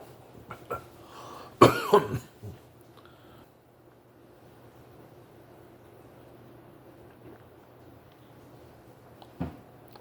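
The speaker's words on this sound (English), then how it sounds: "it seems that I gotta cough or clear my throat." A person coughs and clears their throat in a short burst near the start, then a quiet room hum with one more brief cough later.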